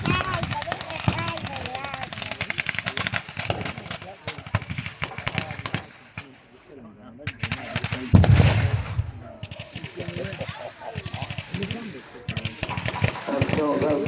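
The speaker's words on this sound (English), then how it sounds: "seems more likely to be artillery coming in" Artillery and gunfire at a wartime reenactment battle, with rapid cracks and bursts, a heavy boom midway, and a commentator talking over it throughout.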